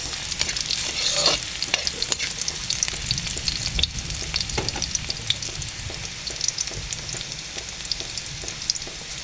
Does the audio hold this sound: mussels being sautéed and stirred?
yes